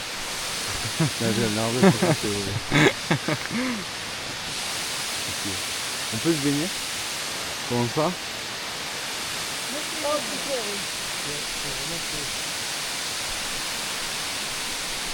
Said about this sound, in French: on a enfin arrivé aux 3 cascades